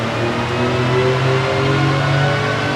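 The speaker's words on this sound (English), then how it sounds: "So the bike is on the dyno here today." A Triumph Rocket III motorcycle with a 2.5-litre stroker engine running on a dyno, a loud, steady droning engine note with constant broadband roar and no pauses.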